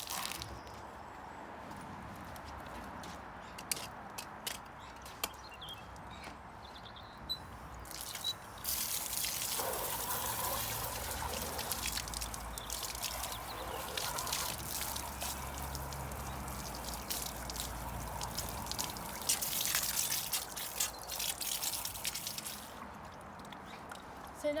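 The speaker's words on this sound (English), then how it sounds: "So now I'm just going to clean out his water so he has that nice fresh water." Water splashes, trickles and drips as a horse's water container is cleaned out, with sloshing and spraying bursts growing busier midway, fairly close and with no clear talk.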